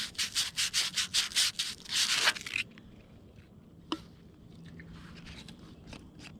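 Sandpaper roughing up the sealing surface of a water line pipe before coupling, a quick series of about ten rhythmic close scrubbing strokes, then near silence with a single small knock.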